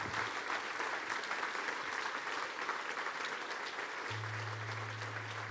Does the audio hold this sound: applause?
yes